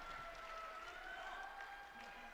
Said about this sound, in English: There's the air raid siren going off.